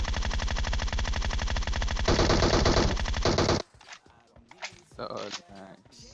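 Rapid automatic gunfire in PUBG Mobile, loud and sustained for several seconds, then cutting off into quieter scattered in-game sounds and effects.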